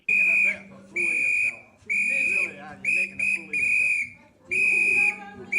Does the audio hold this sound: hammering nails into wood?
no